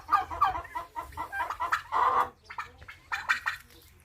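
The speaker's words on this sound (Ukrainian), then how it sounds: "Там курочка несеться." A hen clucking in a farmyard among turkeys while laying an egg, a run of close, repeated clucks and squawks in uneven bursts, loud and near, with no talk.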